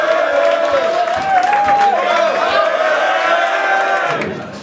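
A packed crowd at a Don't Flop rap battle roars and cheers in a loud, sustained wall of noise, with whoops and shouts layered over the din before it tapers off at the end.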